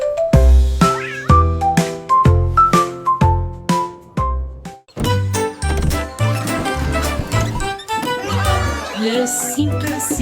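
A series of cartoonish, musical cat meows used as a sound effect in a French nursery rhyme story, repeated tonal mews in a quick rhythmic pattern, loud and close with bright chime-like accents.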